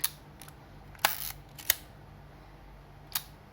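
A Yashica Electro 35 GT film camera shutter clicks sharply a few times at f/1.7, with brief mechanical snaps and a short whir in a quiet room.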